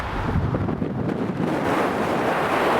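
Loud, roaring wind buffeting the microphone inside an open 2014 Mercedes-Benz E 350 convertible driving fast with the top down, a constant rushing blast.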